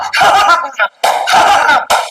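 Dog barking in a Tamil comedy sketch, three loud close barks in quick succession with short gaps, fairly harsh and voice-like in tone.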